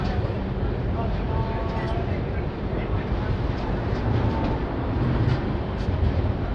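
A Chambal Express train pulls out of Prayagraj Cheoki station, giving a steady, loud rumble of rolling stock with faint tonal squeals, and someone speaks over the noise.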